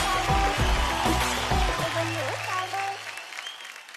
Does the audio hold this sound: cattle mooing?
no